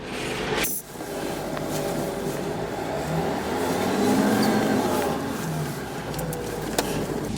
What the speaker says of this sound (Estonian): Edasi sõidame autoga aagise ette.